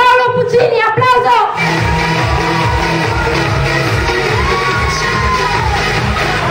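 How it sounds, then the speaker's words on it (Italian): A loud crowd at the Fumettopoli comics convention cheers and claps continuously, with whoops and shouting voices over a steady roar. "il padrone di casa, il patron Paolo Puccini, applauso!"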